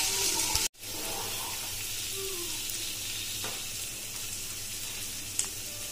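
Ginger garlic paste frying in a pan for veg Manchurian produces a steady, soft sizzle throughout, broken once by a brief sharp dropout and a small clatter, with no voices.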